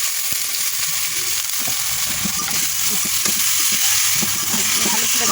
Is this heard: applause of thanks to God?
no